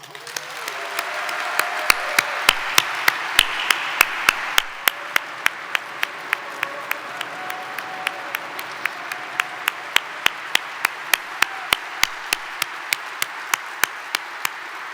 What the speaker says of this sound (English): let's embarrass the heck out of her with a round of applause.